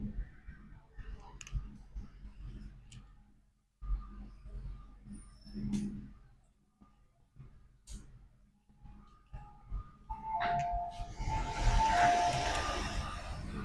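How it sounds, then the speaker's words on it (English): An MTR Tseung Kwan O line M-train pulls into a platform toward LOHAS Park, heard as a low rolling rumble with scattered clicks. The noise grows into a louder rushing swell with brief tonal squeals near the end, under faint station sounds. "The train to LOHAS Park is arriving."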